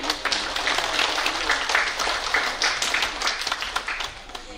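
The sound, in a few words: applause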